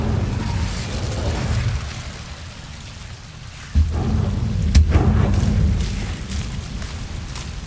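Incendio fire spell cast in Hogwarts Legacy, a loud steady crackling rush with a sudden whooshing burst midway that keeps roaring on, no talking.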